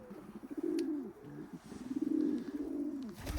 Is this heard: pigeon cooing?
yes